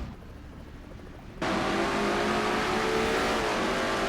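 A racing video game car engine at Watkins Glen cuts in abruptly and holds a loud, steady high-revving drone, with a slight shift in pitch as the car works through the corners.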